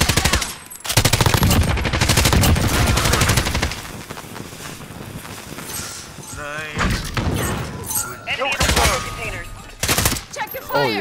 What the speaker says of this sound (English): Yo, I brought my machine gun back.